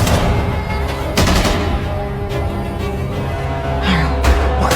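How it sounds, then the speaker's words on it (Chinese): Gunfire in a tense film scene set in a maze-like underground tomb: several sharp shots ring out over a dense, rumbling soundtrack, fairly loud, with no speech. "可在路上他们听到了枪声。"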